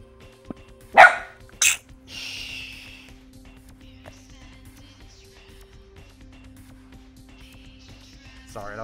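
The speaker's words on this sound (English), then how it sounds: "Sorry, that was my dog." A pet dog barks indoors, two sharp loud barks in close succession near the start, followed by quieter background sounds under a low steady hum.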